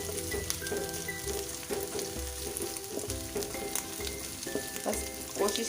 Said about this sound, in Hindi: इसको 1 से 2 मिनट सोटे करेंगे।